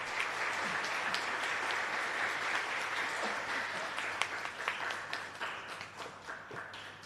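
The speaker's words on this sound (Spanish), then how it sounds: "Por favor, un fuerte aplauso." Church congregation applauding at a parish Mass, a steady, dense wash of many hands clapping throughout, fairly distant and even, thinning slightly toward the end.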